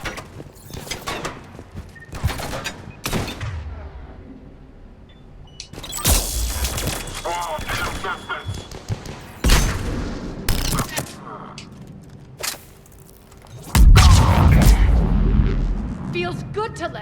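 Rapid gunfire bursts from a firefight in the video game Mass Effect, loud volleys and repeated shots with heavy booms, mixed with voices talking between bursts.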